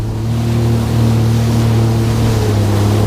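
Jet ski running across open water at Subic, its engine droning steadily and loudly with a constant hum and wash of spray and wind, no voices.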